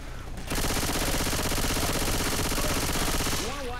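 Rapid automatic gunfire in the video game Left 4 Dead 2 rattles in a dense, continuous stream for about three seconds after a brief quiet start, loud and close.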